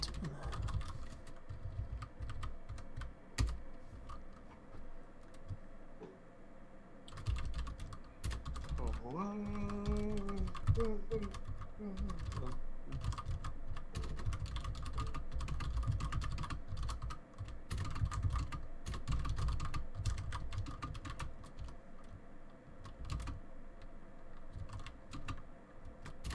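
Near-continuous clacking on a small computer keyboard, close and steady throughout, with a brief warbling tonal sound rising over the keystrokes partway through.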